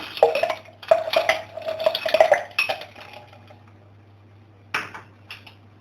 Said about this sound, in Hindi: अभी मैं यहाँ पे डाल रही हूँ थोड़ी सी बर्फ।